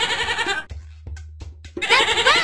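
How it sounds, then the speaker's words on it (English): A goat bleats in a farm-animal sound quiz, a loud, wavering bleat at the start and again at the end, with quieter breathy noises between. "It's a goat!"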